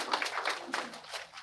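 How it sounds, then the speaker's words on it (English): Audience applause for a speaker at the Independent Mindset Conference, a steady patter of many hands clapping at moderate distance, continuing evenly for the whole stretch without voices. "Please, a round of applause for her, please."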